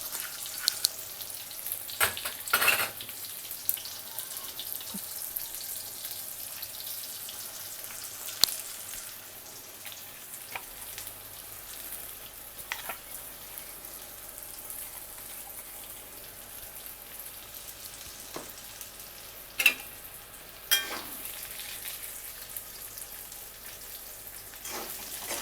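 Masala for an ivy gourd (dondakaya) curry fries in a pan with a soft, even crackle, broken by a few scraping stirs and clinks; quiet and close, with no talk.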